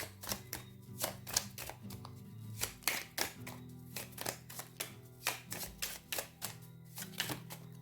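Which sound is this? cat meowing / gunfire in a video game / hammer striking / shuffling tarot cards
shuffling tarot cards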